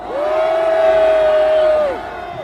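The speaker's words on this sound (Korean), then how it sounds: "윤상현 의원을 큰 박수로 모시겠습니다." A rally crowd at an impeachment-opposition gathering lets out a loud, sustained cheer and shout for about two seconds, a broad mass of voices that then drops away.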